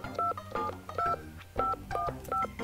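Telephone keypad tones beep in a quick irregular sequence of about eight DTMF presses, each a short clear two-tone beep, in the game 428 with faint background music.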